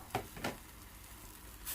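Fried tofu pieces go into a hot pan for a vegetarian braised tofu dish, giving a soft steady sizzle with a couple of brief louder crackles near the start.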